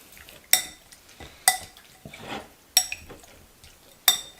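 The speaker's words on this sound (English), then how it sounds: "And then all you do is just mix this up." Food being mixed by hand in a bowl after a pinch of pepper, with four sharp clinks of a utensil against the dish spaced about a second apart and softer scraping between them.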